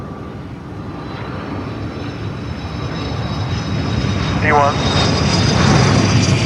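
A fixed-wing airplane's engine roars steadily and loudly during the takeoff roll, its drone swelling slightly toward the end, while voices speak over it.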